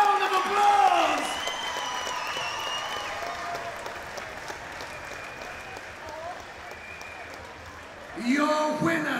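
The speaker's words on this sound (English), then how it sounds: "Give them both a round of applause." Crowd applause and scattered cheers ring out at a fight event after an MMA bout won by rear naked choke, a broad wash of clapping with a louder burst near the end.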